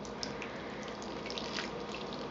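Water carrying dirt rushes into a model lake in a wetlands and land-use demonstration, a steady close wash of flowing, trickling water with faint splashes throughout.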